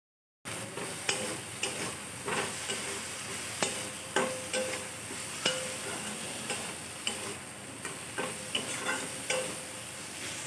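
Jackfruit seeds frying in a pan give off a steady, close sizzle, broken by repeated light scraping stirs and occasional sharp ticks from the spatula against the pan, with no talking.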